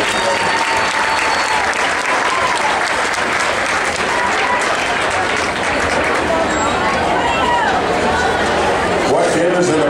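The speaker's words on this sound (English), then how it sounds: "Let's give him a round of applause and show him how much we appreciate him." A crowd at the 2012 Yuma County swine show applauds the judge with sustained, loud clapping that fills the whole stretch. Faint voices and chatter mix in beneath it.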